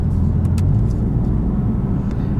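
A 2017 BMW M4 Competition with a DCT gearbox cruises along, its engine a steady, loud low drone with road rumble and no talk.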